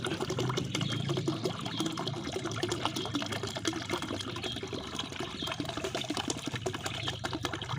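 M4 liquid runs steadily into a liquid fertilizer mix for porang plants, a continuous close trickle and splash lasting several seconds with no talk.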